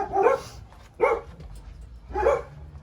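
A stray dog barks three times in a row outdoors, loud and close, with short pauses between the sharp barks and no talk.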